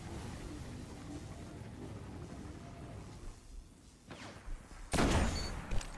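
Sniper rifle fire from the video game Destiny: a low rumbling game background that turns into a sudden loud, sharp shot near the end, followed by brief ringing. No voices.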